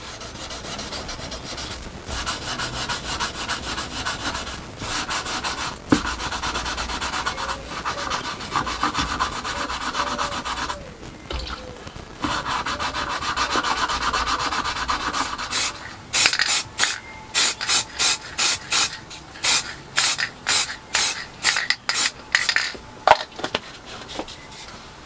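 Hand sanding of a bonnet for paint prep on a small cyclekart in a shed, a steady close rasping rub that gives way to a series of short, rhythmic back-and-forth strokes in the final third.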